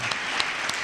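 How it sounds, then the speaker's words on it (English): A short burst of dense audience applause at a university inaugural lecture, continuous clapping from a hall full of people without speech. "Another round of applause for Professor"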